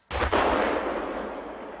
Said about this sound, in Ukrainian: де постріли, вибухи, хоч і закладають вуха, але не забирають життя